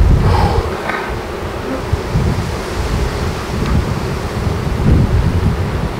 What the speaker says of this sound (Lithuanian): Bičių didžiulis kiekis.